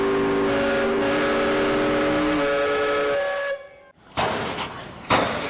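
A steam whistle at a threshermen's park sounds the noon alarm, a loud sustained tonal blast holding for several seconds before cutting off, followed by bursts of hissing steam and background noise.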